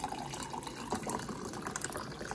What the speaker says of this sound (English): Then I'm just pouring the water